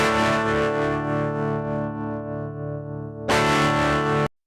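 Distorted electric guitar running straight from a St. Rock React loadbox as a direct signal with no speaker cabinet, sounding harsh and fizzy, playing sustained chords alone with a brief pause and a louder strum before stopping.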